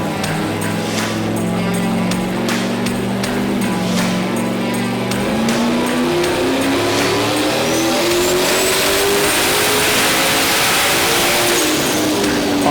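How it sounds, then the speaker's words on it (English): A drag race car's engine roars loud and close on a dyno pull. Its pitch climbs smoothly and continuously as it revs up under load. "put them on the dyno, and start doing pulls"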